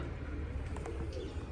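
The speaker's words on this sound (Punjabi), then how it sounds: "ਤੇ ਇੱਕ ਕੂਤਰ ਆ ਫਿਰਦਾ" A pigeon coos softly, a low throaty call over steady background hum and faint distant noise.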